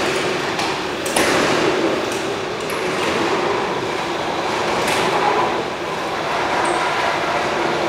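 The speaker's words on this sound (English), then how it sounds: "just press it once and the garage door will open." A garage door opened by a Sonoff Zigbee wireless switch rolls up with a steady mechanical rattling rumble, with clicks and a brief clack near the start and faint metallic pings throughout.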